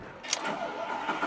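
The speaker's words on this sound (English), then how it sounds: "Starts right up, the V10 roars to life." A Lamborghini Gallardo convertible with its top down starts up, its V10 engine cranking with a short sharp burst and then settling into a rough, rising idle, close and loud.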